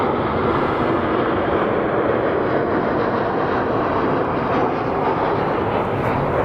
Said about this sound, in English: The 757 is actually a really cool plane.